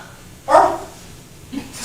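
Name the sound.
small dog barking near a lake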